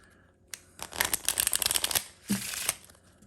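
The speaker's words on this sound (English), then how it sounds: "So I'm just shuffling and I'm really mixing up the deck with the exception of the bottom card." A deck of playing cards is shuffled by hand for a card trick, with bursts of dense riffling clicks close up, a brief pause, then another short shuffle.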